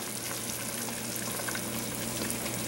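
Steady bubbling and hissing of water at a rolling boil in a pot, a constant close churning with no voices.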